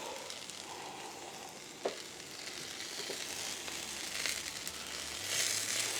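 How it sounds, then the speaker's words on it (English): Spaghetti and meatball burrito brushed with marinara sauce sizzling on a hot cooking surface, a soft, steady crackle at low level with a few small clicks and scrapes. "Gotta love the sizzle."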